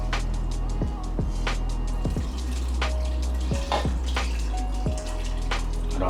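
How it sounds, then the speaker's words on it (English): Water pouring into a pot of beef curry with breadfruit, a continuous close splashing stream broken by a few small drips and clinks. "Now we will add some water."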